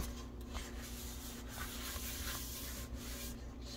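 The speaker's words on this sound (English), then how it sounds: "so now we're just going to dry it all off." Cloth rubs over a washed Wagner No. 8 cast iron skillet as it is dried, a soft continuous wiping close by with faint repeated strokes.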